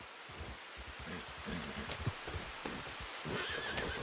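A horse whinnies and its hooves clip-clop in Red Dead Redemption 2, the neigh rising near the end over steady hoofbeats and light rustling, with no voices.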